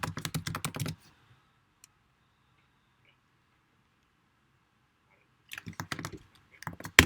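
Keys on a computer keyboard clatter in quick bursts of typing, with a long quiet pause between the first and second flurries and a final sharp click at the end.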